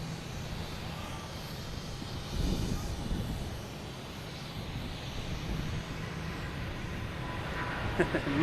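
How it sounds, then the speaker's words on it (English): An Air France A350 takes off from Boston Logan for Paris, a moderate, rumbling engine roar that swells briefly early on and then holds steady, with a voice talking over it. "we got Air France taking off, heading to Paris"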